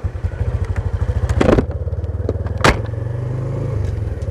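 Motorcycle fitted with a custom SND stut blok idles with a steady, close pulsing throb, broken by two sharp throttle blips and a clattering thud around the middle.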